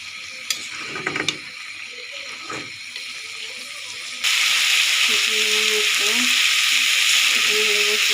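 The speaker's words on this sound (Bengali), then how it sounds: "আলুটা ভালো করে কষিয়ে নেব।" Potatoes and prawns sauté in hot spiced oil in a pan, first a faint sizzle with clinks of utensils, then a sudden louder, steady hiss of frying.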